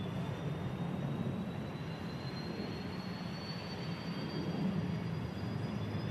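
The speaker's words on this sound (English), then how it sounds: "EasyJet coming in from Paris Orly Airport" An EasyJet passenger jet arriving at Manchester Airport from Paris Orly, a steady distant engine roar with a faint rising whine, quiet and unbroken.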